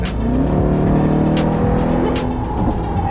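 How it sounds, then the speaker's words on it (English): A 2019 Jeep Grand Cherokee Trackhawk accelerates hard, its supercharged engine roaring loud and close with a steady high whine riding over the deep rumble, sustained throughout. "you hear that piercing sound. That's the turbo"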